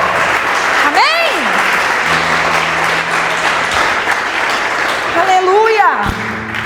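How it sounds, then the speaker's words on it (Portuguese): A church congregation applauds during a worship service, steady loud clapping that continues under a voice speaking and calling out over it. "Aleluia, aplauda o Senhor"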